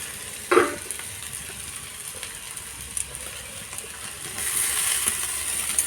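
Fenugreek greens go into a pan of frying vegetables and potatoes. A clatter at the start gives way to a close, steady sizzle that grows louder and hissier toward the end.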